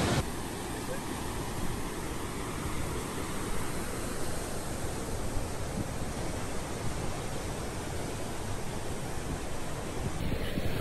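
Cascade du Rouget waterfall roaring as a steady, dense broadband rush that stays loud and unbroken throughout, close by, with no speech over it.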